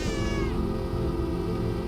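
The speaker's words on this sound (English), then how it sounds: "God, that's depressing to hear the cat go over." A cat meows in the video game Stray, a clear, loud, drawn-out cry that starts high and slides downward before dying into a low background hum.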